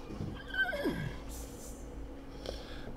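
A horse in The Sims video game lets out a loud whinny that slides downward over about a second. Softer breathy snorts and faint game sounds follow.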